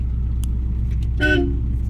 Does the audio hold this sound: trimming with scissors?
no